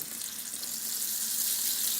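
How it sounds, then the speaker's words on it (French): A small knob of butter sizzling in olive oil in a frying pan, a steady bright crackling hiss held at an even level close by, with no talking. "Je vais rajouter juste une petite noix de beurre"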